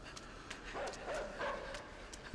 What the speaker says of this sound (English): Because he always spots you or sniffs you out.